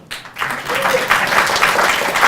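An audience at a mayors' climate summit breaks into applause, the clapping swelling quickly after a brief opening and holding steady, dense and fairly loud for a couple of seconds.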